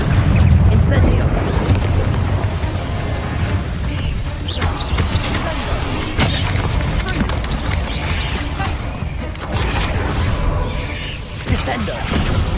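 Incendio fire spell cast in Hogwarts Legacy: a loud, sustained roaring blast with rumbling booms and crashing impacts that keeps surging and fading throughout.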